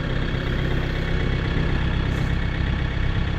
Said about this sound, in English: That's the best starting little tractor